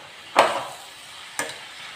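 A spoon stirs a bitter gourd curry mixture in a pan, giving two distinct scraping strokes about a second apart, each fading into a soft sizzle.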